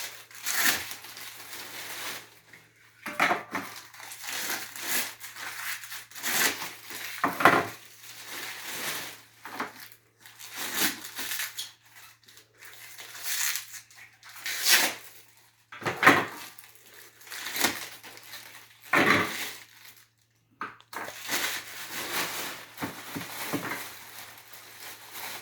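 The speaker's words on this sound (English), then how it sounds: "More packaging, we need to get these ones out of the way." Packaging is pulled out and crumpled while unboxing a pedestal fan, giving quiet, irregular bursts of crinkling, rustling and handling close by.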